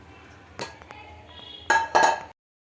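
A metal lid is set onto a large kadai in a home kitchen for an egg and paneer curry: one sharp clank, a few soft clicks and scrapes, then two loud ringing clatters as the lid settles.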